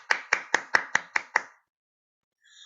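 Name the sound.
audience round of applause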